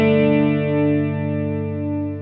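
A clean electric guitar chord rings through a Mooer Pitch Box pedal set to a slight detune, which gives it a subtle chorus-like shimmer. The note is struck once and sustains up close, fading slowly, with no talking.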